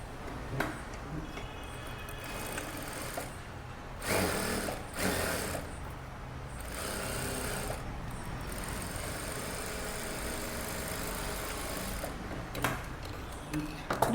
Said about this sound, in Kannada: ಇಟ್ಕೊಂಡು ಇದನ್ನು ಕೂಡ ನೀಟಾಗಿ ಸ್ಟಿಚ್ ಹಾಕೊಂಬಂದ್ಬಿಡಿ